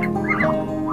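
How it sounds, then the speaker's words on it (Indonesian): Ducks quack on a farm raising about fifty birds alongside muscovy ducks, giving a close, continuous nasal honking chorus that fills the whole second with no talk over it. "ada 50 ekor bebek di sini yang dikembangkan"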